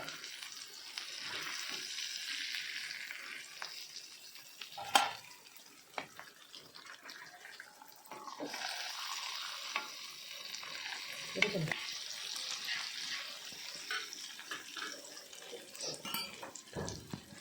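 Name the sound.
fish frying in a pan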